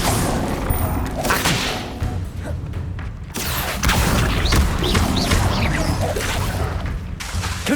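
Repeated Confringo fire-spell blasts in Hogwarts Legacy, with booming impacts, whooshes and crashing debris piling up in a loud, continuous barrage of combat.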